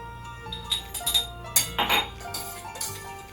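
A spinach-and-garlic food mixture is spooned into a jar, with a run of light clinks and taps of utensil against glass, several sharp knocks close by and no talk.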